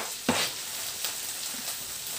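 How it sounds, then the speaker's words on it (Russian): Three carrots frying in a pan give a steady, close sizzle with a few soft stirring scrapes and taps, and no talking. "Теперь в этой сковородке обжариваю 3 морковки у меня."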